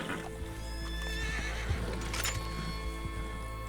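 A horse neighs once in Red Dead Online, a faint drawn-out whinny over low, steady background noise and music, with soft hoof clops.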